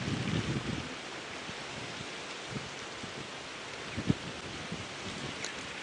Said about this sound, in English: It is windy